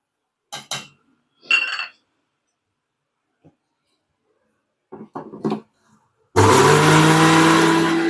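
A kitchen mixer grinder powdering sugar starts abruptly after a few clinks of dishes and utensils, then runs as a loud, steady, close whirring roar.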